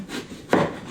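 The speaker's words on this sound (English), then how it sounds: "there's going to be thick and thin to this peeling that's coming off" A vegetable being peeled with a peeler for holiday side dishes, one short close rasping scrape of the blade across the skin, with no talking.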